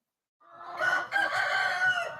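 On a chicken farm in chilly Palmer, Alaska, a rooster crows once, close and clear, a drawn-out cock-a-doodle-doo rising from silence with a short break in the middle.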